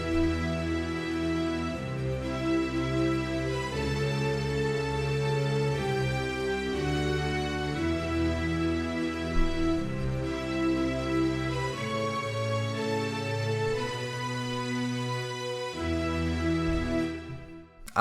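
Layered orchestral arrangement of the Avengers Endgame theme, sustained chords and bass lines building in full, continuous parts that fade out at the close, with no talking.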